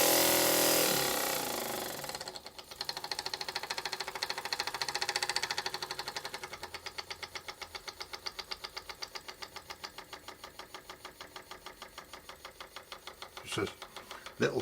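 A small single-acting oscillating model steam engine running on compressed air, starting with a loud hiss, then settling into a fast, steady chuffing beat close by, with someone talking over it.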